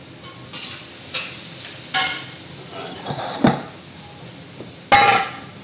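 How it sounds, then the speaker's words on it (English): Onions and garlic sizzling with cumin in a pan, a steady fry hiss punctuated by several sharp clinks and knocks of a utensil against the pan, close by and without speech. "Frying onions and garlic."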